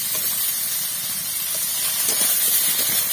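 Chopped tomatoes hiss in a hot pan with a steady, close, steam-like sizzle that carries on evenly without pause.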